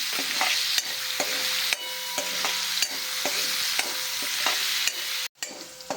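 Chopped onion fries in a pan with asafoetida and salt, giving a steady, close sizzle broken by regular scraping strokes of a spoon stirring through it.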